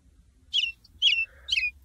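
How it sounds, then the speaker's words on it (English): Birds chirp outdoors in three short bright bursts of high tweets spaced about half a second apart, clear and moderately close against a quiet low background. "I hear birds chirping outside."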